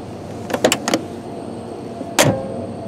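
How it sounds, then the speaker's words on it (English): Door latch of an old Porsche 911, a quick cluster of three metallic clicks followed by a sharper single clack a moment later, close and crisp over a low background hum. "when you hear that wonderful old 911 door latch sound"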